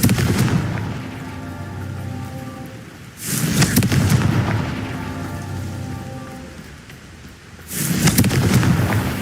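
A Confringo blasting curse goes off as two booming, roaring surges that swell out of a dense, rain-like rumble, which continues steadily between them.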